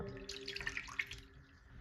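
Water running from a tap while makeup brushes are rinsed at a sink, a steady soft stream with light splashing and small dripping sounds, fairly quiet and without talk.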